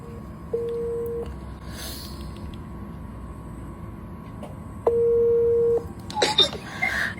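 An outgoing phone call rings through a handset: two steady electronic tones about four seconds apart over low background hiss, then a brief burst of other sound at the end.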